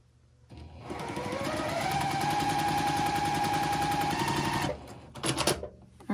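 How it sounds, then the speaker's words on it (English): A sewing machine stitching quilt pieces together for an Attic Window quilt runs in one loud, continuous whirring burst of about four seconds. It then stops, followed by a couple of brief mechanical clatters. "and then we'll sew this other one"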